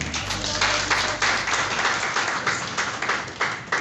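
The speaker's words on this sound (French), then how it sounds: "Je voudrais bien qu'on acclame." An audience at a round-table event on women's empowerment and contraception breaks into steady applause, a dense run of clapping that holds for several seconds without any voices.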